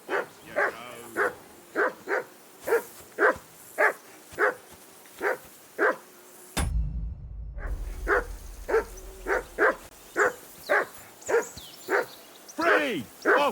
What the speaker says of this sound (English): Henry, that barking's driving me nuts. Can you get your dog to shut its beak